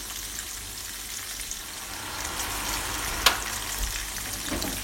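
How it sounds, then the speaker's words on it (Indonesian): Catfish in a flour coating frying in hot oil, a steady dense sizzle and crackle that stays even throughout with one sharp pop near the end, and no voices. "Pemakaian tepung ini mengurangi ikan lelenya meletus-meletus saat digoreng."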